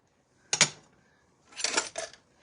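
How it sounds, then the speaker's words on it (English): Kitchen tools pulled from a caddy clink and rattle in two bursts, a sharp metallic clatter followed by a longer jangle a second later, close and clear in a quiet room. "I'm just pulling tools out of my caddy that I have over here."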